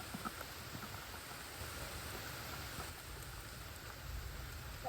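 Steady rain falls around an angler fishing from a boat on the Lumber River, a soft, even hiss with faint patter on nearby surfaces and no talk.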